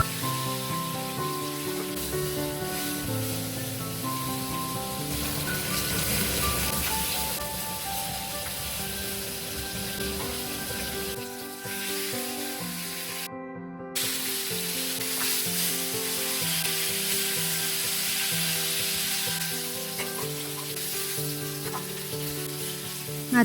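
Rohu fish pieces frying in hot oil give a loud, steady sizzle and crackle that goes on without a break except for a brief drop near the middle, with no talking.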